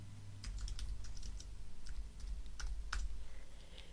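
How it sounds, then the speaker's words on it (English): Typing on a computer keyboard: a quick, faint run of close key clicks at an uneven pace, with a few sharper, louder strokes, over a low background hum. "I'm going to press the Return or the Enter key on the keyboard"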